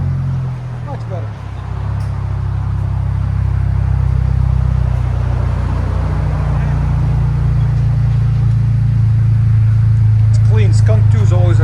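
A 2002 Acura Integra Type S fitted with a Skunk2 cat-back exhaust idles with a steady, close, deep low rumble that holds throughout, with brief faint voices near the start and end.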